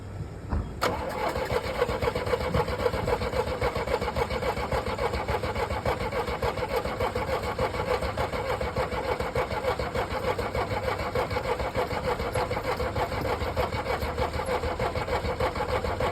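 A 1981 Chevette engine cranks continuously on a start-up attempt, with a steady, loud rhythmic churn of the starter that never catches and runs.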